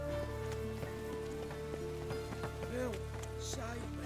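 Steady rain hisses across a scene in the video game The Witcher 3, a constant wash of falling water layered with faint hums and distant tones throughout.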